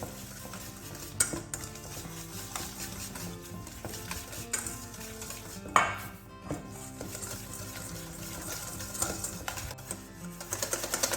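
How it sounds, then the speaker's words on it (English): Icing sugar being whisked in a bowl, rapid continuous rattling and clinking of the whisk against the bowl, close and fairly quiet, with no talk. "we're just going to whisk that up until it goes nice and frothy"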